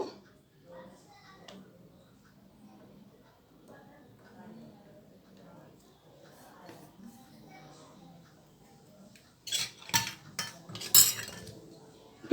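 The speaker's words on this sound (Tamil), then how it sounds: "அதை வந்து குட்டி குட்டியாக நம்ம வந்து கட் பண்ணிக்கலாம்" Soaked, peeled almonds cut into small pieces with a knife: faint low murmuring and soft handling at first, then a cluster of sharp, close clicking and tapping knife strokes toward the end.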